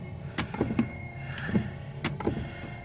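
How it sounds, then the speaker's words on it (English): The windshield wiper motor of a 1950 Pontiac runs its linkage in a rhythmic cycle of whirring sweeps punctuated by sharp mechanical clicks, heard close up with no talking. "So here is the motor working like it should"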